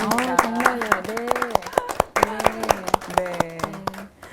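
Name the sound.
audience clapping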